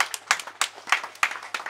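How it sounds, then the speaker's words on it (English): Rhythmic clapping at a school class's 40th anniversary reunion gathering, sharp claps in an even beat about three per second, fairly close and without speech. "A round of applause."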